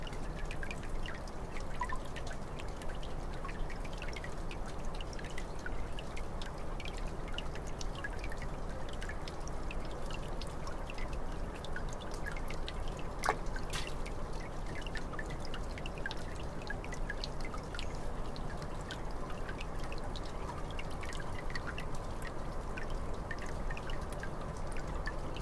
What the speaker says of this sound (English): There was like a nearby cave with water dripping into the soil.